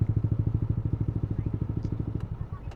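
A Yamaha Aerox scooter engine turns over and runs with a steady, rapid low pulsing that is loud and close at first, then eases off and fades near the end with a couple of faint clicks and no talk.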